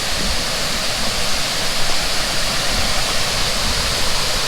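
A waterfall on the Laurel Fork Falls Trail in the Jocassee Gorges, South Carolina, heard from the woods above as a steady, dense rushing roar that stays even and unbroken throughout, with no voices.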